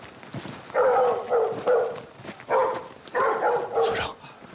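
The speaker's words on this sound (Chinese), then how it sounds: "有狗叫，肯定有人" Dog barking in several short bursts, fairly close, over a quiet outdoor background while people move along a path; no speech over the barks.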